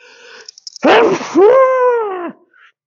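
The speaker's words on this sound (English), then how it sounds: "I just had a sneezing attack" A loud, close sneeze bursts out after a few sharp sniffing inhales, followed by a long wheezy, groaning exhale.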